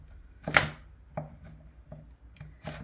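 A kitchen knife slices through chestnuts on a cutting board while making kimchi, giving about five to six sharp, separate chops spread unevenly, fairly close and moderately loud, with no speech.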